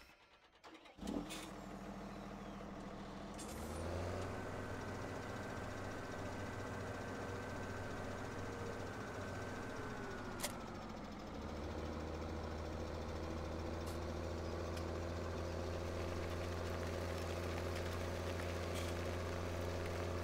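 Tractor engine in Farming Simulator 17 starting up, then a steady low diesel idle that revs up to a higher drone before dropping back to a steady running hum, heard alone and close.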